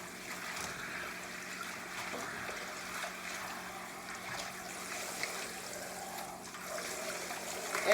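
Collard greens lifted out of a basin of clean cold water, with a soft, continuous trickle and dribble of water running off the leaves, faint and close, with no voices.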